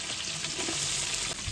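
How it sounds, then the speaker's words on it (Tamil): Sliced onions fry in hot oil with cinnamon bark for chicken majboos, giving a constant close sizzle and crackle with no one speaking. "இது கொஞ்சம் உப்பு போட்டால் சீக்கிரம் வெங்காயம் பொரிஞ்சிடும்"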